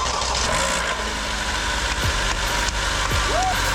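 A 4-cylinder Honda Accord, 2012 to 2016 model, idling close by with a steady low hum and faint intermittent rattling after a fresh starter replacement.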